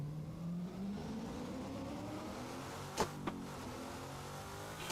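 A car engine in the Assetto Corsa racing game revs steadily, its pitch climbing smoothly while held in gear, with a couple of brief sharp clicks partway through and no talking.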